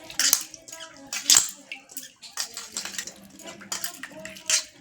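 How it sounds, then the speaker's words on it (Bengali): Grapes being squeezed and rubbed by hand in water to clean them, giving wet splashing and sloshing bursts mixed with light clinks of a bowl or utensil, close and irregular. "ভালো করে চটকে চটকে ধুয়ে দিচ্ছি"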